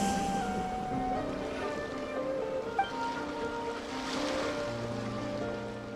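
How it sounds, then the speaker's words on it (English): Ocean waves in the Genshin Impact video game, a steady wash of surf with breezy water noise that carries on without a break, sitting under soft tonal game music. "Go to where you can hear the sound of the waves."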